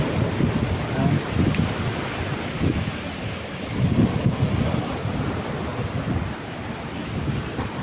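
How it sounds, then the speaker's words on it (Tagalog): Strong sea waves crash and surge continuously in front of the Movenpick, with gusting wind buffeting the microphone throughout; loud, rumbling surf swells and recedes in uneven pulses with no talking. "Talagang hahampasin ganyan sa sobrang lakas ng alon."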